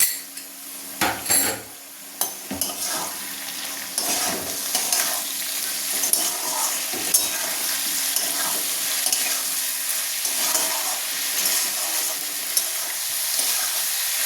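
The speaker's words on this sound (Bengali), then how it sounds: "মশলাটা এবার মিশিয়ে নেব।" A paste of ground ginger, onion, half a tomato and a few garlic cloves is stirred into a fig (dumur) curry, with a continuous sizzle, clattering spoon-against-pan knocks near the start and steady scraping throughout.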